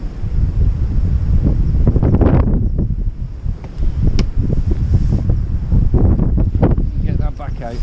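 Strong northwesterly wind buffeting the microphone at the waterside on a blowy fishing day, a loud continuous roar with gusty surges throughout.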